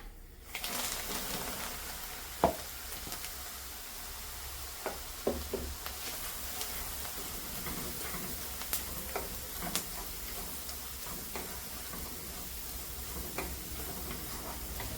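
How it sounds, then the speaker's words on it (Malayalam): Ground coconut paste fries in oil in a pan after curry leaves go in, a low steady sizzle with scattered soft ticks and stirring scrapes, close and quiet, with no voices. "പച്ചയുടെ ഒരു ചുവ മാറുന്നിടം വരെ നമുക്കിത് നന്നായിട്ടൊന്ന് എണ്ണയ്ക്കകത്ത് തന്നെ ഒന്ന് വറുത്തെടുക്കാം"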